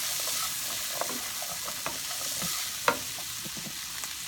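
Garbanzo beans and onion stirred and frying in a pan for chana masala, a steady close hiss of sizzling oil broken by scattered clicks and scrapes of the spoon, one sharper knock near the end.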